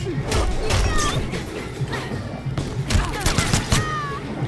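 Rapid automatic machine gun bursts in the fighting game Mortal Kombat X, sharp repeated cracks in two or three clusters mixed with impact thuds and game effects, fairly loud and close.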